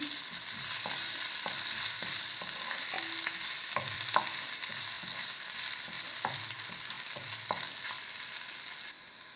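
Prawns are mixed in a pan with ginger paste and turmeric powder, producing repeated spatula scrapes and taps over a soft, steady frying hiss. The sound is fairly quiet and close, with no speech.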